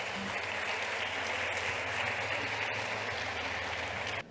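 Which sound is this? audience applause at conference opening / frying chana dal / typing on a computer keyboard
audience applause at conference opening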